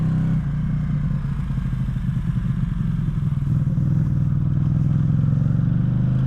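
A Ducati Streetfighter fitted with an Arrow exhaust, silencer removed, roars at full throttle, a loud, raw, continuous engine note with rapid firing pulses and a slight rise in pitch, heard close throughout.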